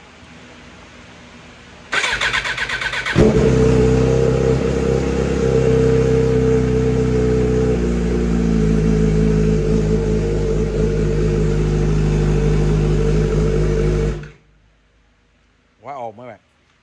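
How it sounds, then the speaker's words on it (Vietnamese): A motorbike engine, worked on in a Malaysian-style custom build, cranks and catches, then settles into a loud, steady idle with a brief rev before cutting off abruptly. A short faint sound follows after the engine stops. "Nổ máy nghe chơi các bạn."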